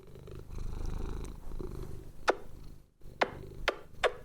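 A pet cat purrs close by in a low, steady hum through the first half, with a few sharp clicks and brief taps cutting in later.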